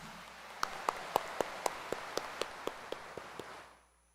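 A church congregation at a rainy Sunday mass claps in a short, even run of about a dozen distinct claps, thin and slightly distant, that fades out after a few seconds, with no voices.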